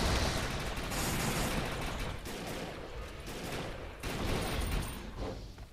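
Sustained bursts of rapid gunfire and fusillade from the co-op shooter video game Defiance, loud and dense with brief pauses between volleys.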